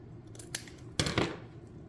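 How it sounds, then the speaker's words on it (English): Scissors snip a small piece of material for a baby shower wreath: a light cut, then a louder, fuller snip about half a second later, close and crisp in a quiet room. "Let me cut that down just a little bit."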